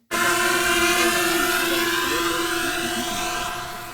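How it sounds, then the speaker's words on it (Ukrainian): Fiber-optic drone flying close by, a steady high-pitched whirring hum with strong tonal lines that holds level for about four seconds and fades slightly at the end, with no talk. "дрон на оптоволокні"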